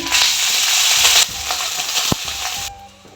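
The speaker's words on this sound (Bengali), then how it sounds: "জিরাটাকে লাল লাল করে ভেজে নিয়েছি জ্বালাবো না জাস্ট এই যে ভাজা করলাম এতটুকুই এখন ভাতটা দিয়ে দিচ্ছি" Cooked rice tipped into a pan of cumin seeds fried in oil, giving a loud hissing sizzle that drops sharply partway through, with a single clack of a utensil before the sound fades out.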